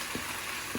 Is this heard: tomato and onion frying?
yes